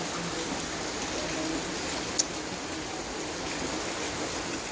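Steady rain hisses evenly throughout, a dense wash of falling drops with one brief click partway through.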